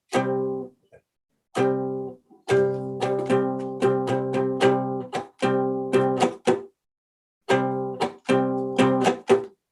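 Plucked twangy notes on a three-string cigar box guitar in short rhythmic bursts, each strum ending in a sharp percussive slap, with brief pauses between phrases.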